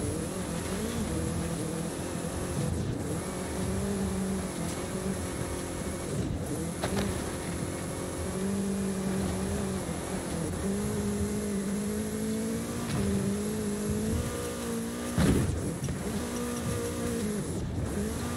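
A car drives in the video game Forza Horizon 5, its engine droning continuously with shifting revs and gear changes, loud and steady throughout, with occasional brief bumps.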